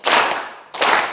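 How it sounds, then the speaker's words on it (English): Two claps from a crowd, the first a long broadband burst that slowly fades, then a short gap and a second sharp burst, loud and close, with no voices. "When I clap, you clap."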